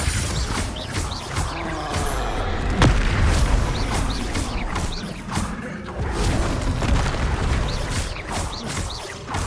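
Confringo explosive spell blasts in Hogwarts Legacy, a run of heavy booming thuds and bursts over a dense, rumbling combat din, loud and close, with one sharp crack near the middle.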